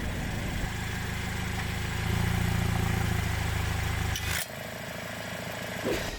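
A BMW 128ti idles through its real exhaust tailpipes, which have a sound-enhancing valve on one side. The engine gives a steady low hum that swells briefly, then dips and settles back to a smooth idle.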